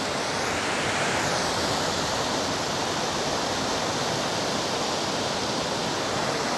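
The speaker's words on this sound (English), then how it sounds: "Let me see if I can come down here so I can see that waterfall." Steady roar of a waterfall in a canyon along the Appalachian Trail in Maine, a dense broadband rush that stays loud and unbroken throughout, with no voices.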